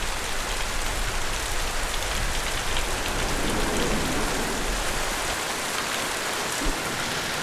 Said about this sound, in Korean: 집중호우가 찾아왔다.